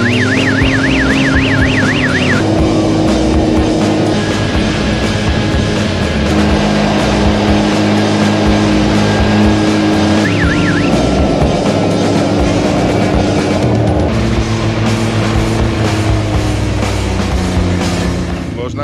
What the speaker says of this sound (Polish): Dawno nie jeździłem skuterami.